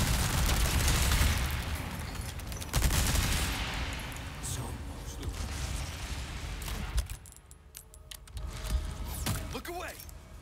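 SMG fire in the Resident Evil 4 Remake comes in rapid, loud sustained bursts of rattling shots, then fades into quieter combat noise with a few isolated cracks; a voice speaks over it.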